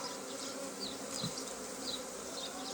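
Honey bees buzzing densely and steadily during a spring hive inspection of a ten-frame colony, a close, continuous swarm hum with individual bees passing near.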